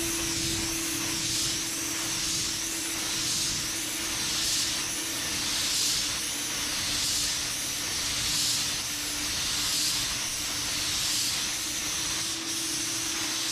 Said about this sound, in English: Out here, we'll spray our regular primer.